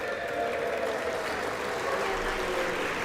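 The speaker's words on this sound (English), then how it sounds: "And of course, a lackluster applause for Jim Jordan as he votes for himself." Scattered, subdued applause rises in the House chamber during a Speaker vote for Jim Jordan, a faint, steady patter of clapping with a low murmur of the crowd underneath.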